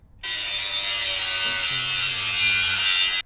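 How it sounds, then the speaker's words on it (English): An angle grinder wheel smooths the cut edges of a modified OEM steel front bumper bracket for a 2019+ Mercedes Sprinter 2500. It gives a loud, steady whirring grind that runs for about three seconds after a short quiet start. "Now we're going to clean up the cut with a grinder"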